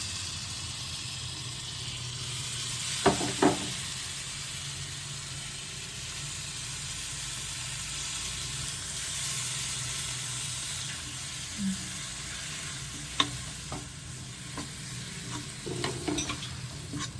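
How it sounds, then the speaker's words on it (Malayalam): Tamarind water hits a hot pan for sambar with a broad hissing sizzle that fizzes on steadily, punctuated by a few sharp clinks and scrapes of a utensil, with no talking. "ഇനി നമുക്ക് പുളിവെള്ളം ഒഴിച്ചെടുക്കാം."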